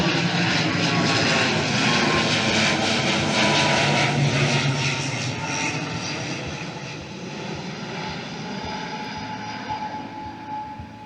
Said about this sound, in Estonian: Ja see peaks nüüd olema see Tartu-Helsingi lennuk.